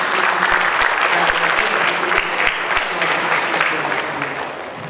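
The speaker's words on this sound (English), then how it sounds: "Please have a huge round of applause for our first speaker" A large audience at a capital markets programme applauds the first speaker, with loud, dense clapping that fills the hall and tapers slightly toward the end.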